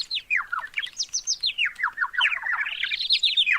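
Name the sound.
bird sounds in woods in a video game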